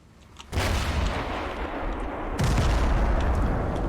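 Artillery fire in the Total Conflict: Resistance video game, two deep booming blasts about two seconds apart, each swelling into a loud rumbling roar that lingers without fading.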